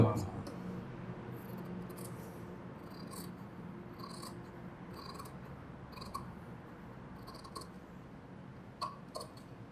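Scissors cut through blouse fabric in a series of short, crisp snips spaced irregularly. The snipping is close but fairly soft, with a person talking underneath.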